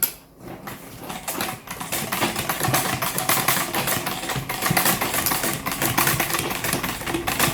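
Sewing machine stitching two pieces of Ankara fabric for a flare top, a steady dense mechanical whir running continuously at close range with a brief pause near the start.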